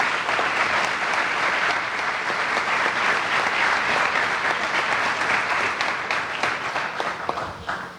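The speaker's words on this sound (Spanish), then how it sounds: "al padre Andrés Benítez, un fuerte aplauso." Dense, sustained applause from a youth audience at a Catholic church celebration, loud and steady for several seconds before tapering slightly at the end, with no talk over it.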